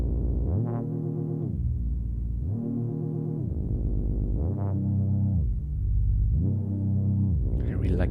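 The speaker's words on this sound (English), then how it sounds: "I really like this gliding sound" A Hologram Microcosm effects pedal in glide mode turns a synth tone into four swelling, pitch-gliding pulses, each rising and falling in a smooth rhythmic wave with a deep sustained low end, loud and close with no voices over it.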